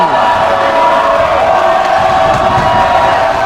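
A loud, dense crowd roars and cheers continuously at a high school boys basketball game between the Colonials and Lynn, a steady wall of voices from the stands with no clear individual words.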